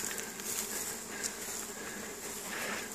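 Honeybees at the Caribou apiary bee yard on a warm May day, returning to an emptied hive: a dense, steady buzzing swarm close by, continuous and moderately loud with no talking.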